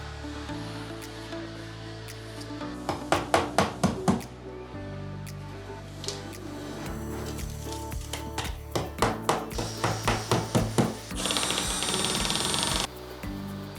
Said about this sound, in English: We'll screw those in